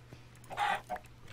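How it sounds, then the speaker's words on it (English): A Minecraft chicken clucks in a short, close burst of two quick clucks during a UHC match, with game ambience beneath. "Oh, chicken."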